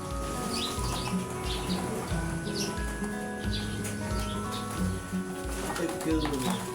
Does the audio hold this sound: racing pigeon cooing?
yes